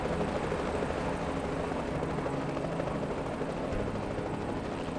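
A helicopter hovering in the game Reverse: 1999, a dense continuous rotor roar that stays steady and loud throughout.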